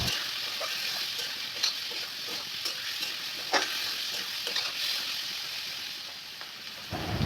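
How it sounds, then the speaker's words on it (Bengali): Mango curry with onion, salt and turmeric being stirred in a pan sizzles steadily up close, with occasional scraping clicks of the spoon against the pan breaking through the even frying hiss; nobody speaks. "দিয়ে দিচ্ছেন হলুদের গুঁড়া, দিয়ে আরও কিছু সময় নেড়ে নিচ্ছেন।"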